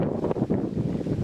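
Wind gusting across a lake in the Ladoga skerries of Karelia, a steady broadband roar buffeting the microphone with rumbling low-end pulses, close and continuous with no voices.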